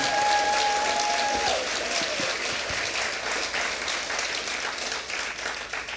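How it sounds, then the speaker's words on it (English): A storytelling festival audience in Nebraska gives a full round of applause, continuous dense clapping with a brief whistle-like tone at the start, fading slightly toward the end. "Can we give one more round of applause to Diane?"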